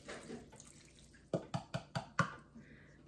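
A cup of water is measured out for a Nova Scotia blueberry grunt, first a soft rush of running water, then a run of five or six distinct splashy drips and glugs, close and quiet.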